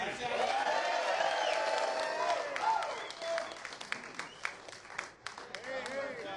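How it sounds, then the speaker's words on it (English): A crowd at a barbecue contest applauds and cheers beneath a voice over a loudspeaker, the clapping growing sharper and more scattered in the second half. "place to applaud"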